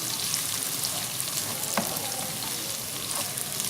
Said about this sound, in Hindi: प्याज को हम इतनी देर फ्राई करेंगे कि ये नरम हो जाए।